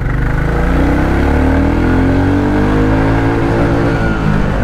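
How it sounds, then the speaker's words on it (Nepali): A Bullet motorcycle with a stock, unmodified exhaust revs loudly and close, its exhaust note rising and holding with a deep throbbing rumble. "साउन्ड सुन्नु न यार साउन्ड त मोडिफाई पनि केही गर्नु पर्दैन"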